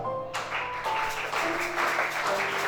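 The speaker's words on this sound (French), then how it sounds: "Acclamez ça." A church congregation breaks into sustained applause that rises suddenly and continues steadily, with a sustained keyboard or organ tone running underneath.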